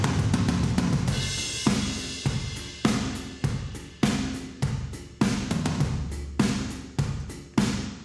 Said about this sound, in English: getting kind of that gated verb sound here with the QRS with the really short reverb time